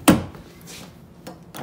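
A locked car passenger side door being tried: one sharp clunk of the handle and latch, followed by quieter rattles and a faint second knock near the end.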